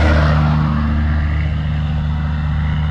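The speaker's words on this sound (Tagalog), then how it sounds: "wait lang, ingay ng truck." A passing truck makes a loud, steady engine drone with a deep rumble that holds through the whole stretch, with no voices over it.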